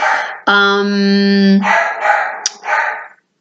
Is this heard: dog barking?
yes